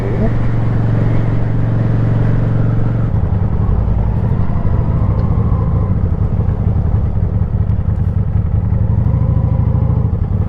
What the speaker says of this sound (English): See, second gear, up to about 30 miles an hour.